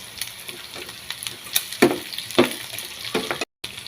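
Garlic, onion and carrots stir-fry in a pan, sounding as a soft crackling sizzle broken by sharp spatula scrapes and taps against the metal.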